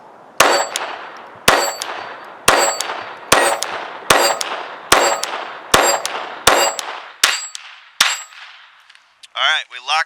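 Glock 44 pistol shots ringing off a steel plate target about 10 yards downrange, nine or ten loud sharp clangs at a steady one-second rhythm, each with a long metallic ring, then a brief rattling sound at the end.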